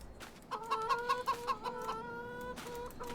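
A string of quick, close clucks from chickens in Farming Simulator 22 runs through the middle, then eases off, with a couple more calls near the end and no voices.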